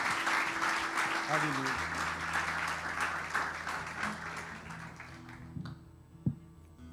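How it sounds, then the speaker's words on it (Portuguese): Church congregation applauding during an evening service, sustained clapping from many people with sung or spoken voices and a held organ or keyboard tone underneath, fading out as a voice speaks near the end. "Aplauda ao Senhor, igreja, mais uma vez."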